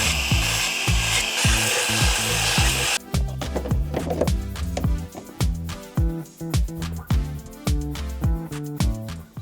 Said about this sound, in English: there's just a little bit of a raised edge, so I'm just going to sand that down a little bit